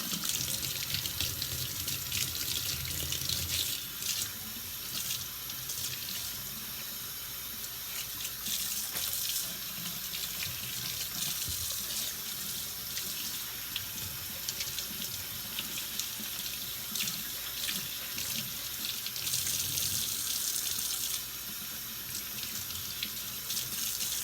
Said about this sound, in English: I'm just rinsing them out so they don't get dye all over.